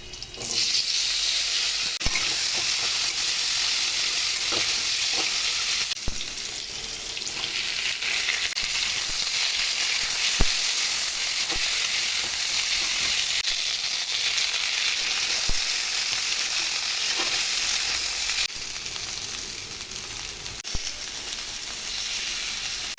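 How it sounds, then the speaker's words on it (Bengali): Asafoetida and two green chillies sizzle in hot oil as a vegetarian dish begins, giving a continuous close frying hiss with scattered sharp pops and crackles. "তেলের মধ্যে হিং, দুটো কাঁচা লঙ্কা ফোড়ন দিয়েছি"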